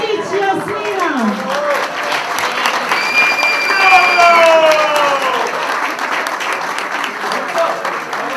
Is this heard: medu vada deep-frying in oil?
no